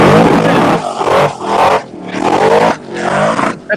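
A race car engine screams up to its rev limiter in loud, sustained bursts, roughly four surges separated by brief dips, close and overwhelming.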